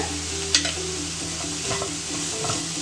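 Spices sautéed and stirred in a pan for scrambled egg curry, after turmeric and chilli powder go in: a steady close sizzle with scraping stir strokes and one sharp clink of the spoon early on.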